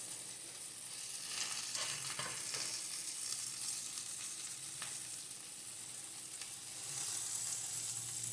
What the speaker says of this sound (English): I'll be frying these on each side for about 4 minutes.